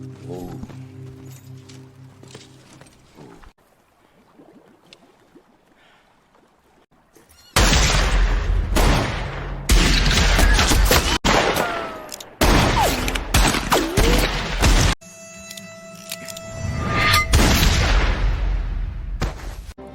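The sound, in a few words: gunfire in a film shootout, horse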